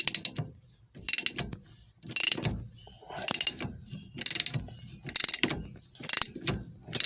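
A ratchet fitted with a 24 mm socket turns the steering wheel nut on a Shelby Mustang, producing rapid clicking bursts repeated about once a second, each stroke loud and close, with brief quiet gaps between strokes.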